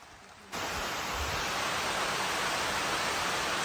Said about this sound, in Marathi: पाऊस बघ काय आता